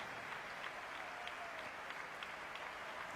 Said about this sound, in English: Full house standing and applauding Juan Carlos Navarro